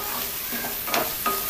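Garam masala powder stirred into a frying masala base for egg pulao, a soft steady sizzle with two or three quick spoon scrapes against the pan, close up and without speech.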